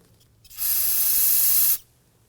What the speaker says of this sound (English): I'm going to go ahead and spray some spray solvent in here.